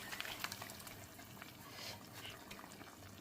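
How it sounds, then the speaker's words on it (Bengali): Hot tempering oil with spices is poured into cooking mutton for a dark Bengali kala bhuna, a faint, continuous bubbling sizzle with a few light spatters at the start. "এবারে বাগার সহ এটা ঢেলে দিচ্ছি"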